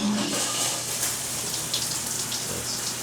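Water runs steadily from a hotel room shower, a continuous close hiss and patter with no pauses, and a voice talks faintly over it.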